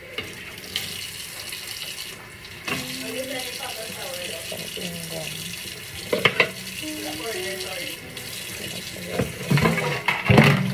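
Tap water runs steadily over chilies being washed in a kitchen sink, with splashing and handling noises, and a voice talks over the flow.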